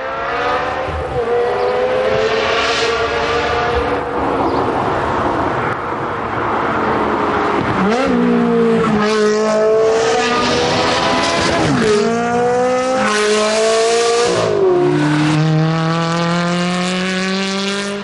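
A high-revving Ferrari 360 sports car engine with a sports exhaust screams through the gears on hill roads, pitch climbing and dropping sharply with each shift, loud and sustained.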